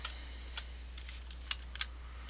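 Quiet typing on a computer keyboard, a handful of sparse, light key clicks spaced unevenly over a low steady hum, no speech.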